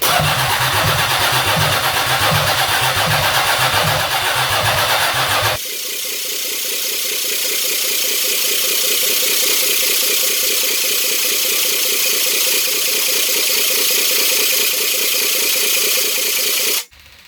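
A 1982 Oldsmobile 4.3 V6 diesel cranks hard for several seconds, then catches and runs at a loud, steady, slightly rattly idle close by, cutting off abruptly at the end.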